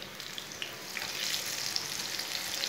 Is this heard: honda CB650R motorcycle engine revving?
no